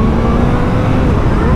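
A 2022 Suzuki Hayabusa engine accelerating at half throttle in third gear, a loud, close, steady roar mixed with rushing wind.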